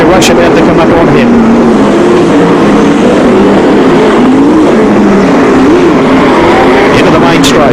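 Speedway race cars roar around Archerfield Speedway at a 1996 ASCC meeting, loud engines droning and rising and falling as cars circle, under continuous race commentary.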